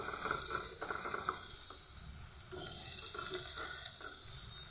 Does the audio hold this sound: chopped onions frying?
yes